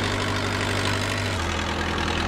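A virtual forklift's engine idles in a VR forklift certification training simulator, a steady low droning hum that holds for about two seconds with a slight shift in pitch partway through.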